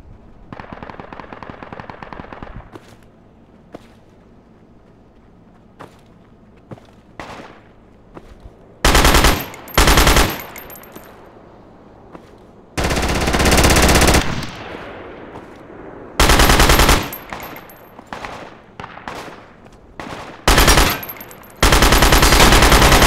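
Bursts of machine gun fire in the military shooter game Project Reality v1.310 on the Burning Sands map. Several loud sustained volleys come one after another, with quieter scattered shots and low rumble between them.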